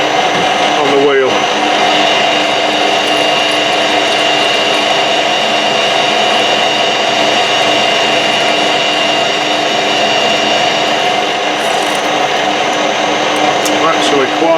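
A lathe drills into tough old steel, a steady loud whine and hum running unbroken throughout, with machining noise that never lets up and no pauses.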